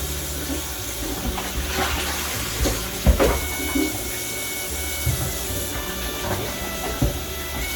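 Raw meat is washed under a running kitchen tap, giving a steady rushing hiss of water with occasional soft knocks and splashes as it is handled.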